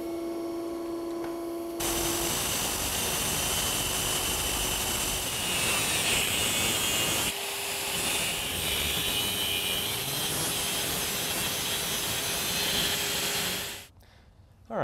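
An electric motor shaft is cut down with a power tool for a dual-motor electric vehicle drivetrain, a loud continuous grinding whine that starts abruptly, pauses briefly midway, resumes, then stops.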